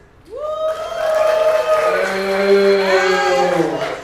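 An audience at a Halloween-themed event cheers for a movie, with rising, sustained whoops and shouts from many voices over a thinner layer of clapping, loud and building together for several seconds.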